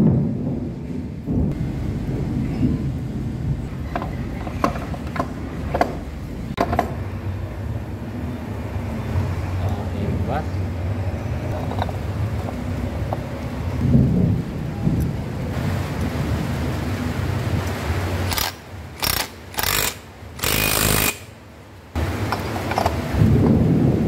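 Heavy rain pours steadily with rolling thunder, a loud continuous downpour roaring throughout, broken by a few brief dropouts near the end.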